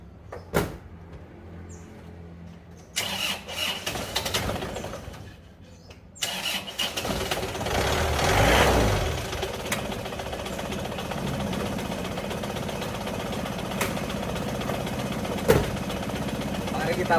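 A cold car engine cranks and starts, then settles into a steady, somewhat rough idle that carries on close by, with a few clunks and knocks, ahead of an engine overhaul.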